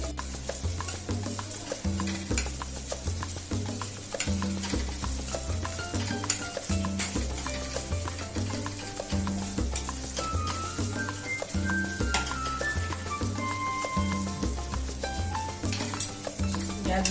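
A ground paste of dry coconut, garlic and ginger fries in a pan with a dense, steady sizzle and crackle, overlaid by repeated stirring scrapes and faint background tones for a long stretch.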